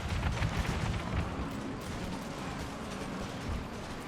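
Enemy artillery and gunfire answer back in a naval combat video game, a dense rumble of booming shots and crackling fire, loud at first and then settling into a continuous roar.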